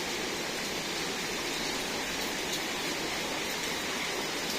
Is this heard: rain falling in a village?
yes